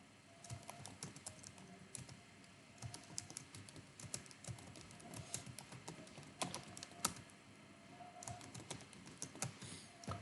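Keyboard typing as student names are entered into an Excel spreadsheet, a steady run of close, quick key clicks and taps lasting throughout, with no talking over it.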